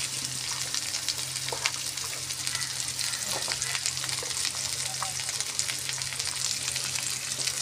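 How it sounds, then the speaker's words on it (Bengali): Potatoes frying in hot oil, a continuous soft crackling sizzle heard close and fairly quiet, with occasional small pops and stirring sounds, steady throughout with no talk. "তেল গরম হয়ে গেছে, আলুটা দিয়ে এবার ভেজে নিই।"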